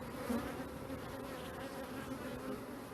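Dense, steady buzzing of many honeybees at an opened hive in an apiary in late March, a continuous close drone with no voices.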